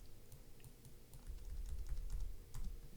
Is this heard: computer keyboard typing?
yes